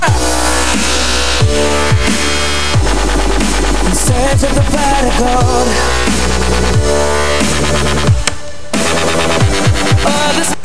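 A heavy, distorted dubstep bass synth growls and wobbles in loud, choppy bursts over a driving beat, with pitch sweeps and a short dropout near the end.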